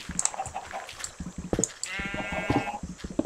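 Sheep in the Minecraft video game bleat several times in short, quavering calls amid soft clicks and game noises, fairly close with no talk.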